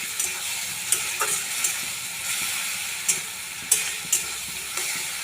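Ground spice paste of onion, garlic, tomato, coriander and cumin sautéing in a pan for an egg omelette curry, a steady soft sizzle with a few light stirring clicks and scrapes, close and without talk.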